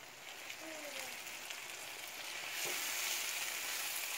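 Chunks of floured beaver meat fry with onion in olive oil, giving a steady, faint hiss and sizzle that swells slightly near the end as the pan is stirred.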